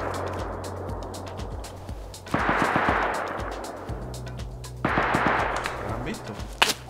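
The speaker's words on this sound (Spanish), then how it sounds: "Eso es que están rompiendo el armario a disparo" Gunfire in the video game Rust as raiders shoot at a cupboard, rapid automatic bursts of sharp cracks in two loud waves over a low rumbling background, with faint muffled talk.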